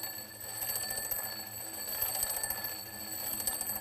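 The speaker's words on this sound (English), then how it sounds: "Listen to the sound as the alarm clock moves towards you." An alarm clock rings continuously with a bright, rapid metallic bell tone, steady and fairly loud, moving closer so its pitch rises by the Doppler effect, with no voices.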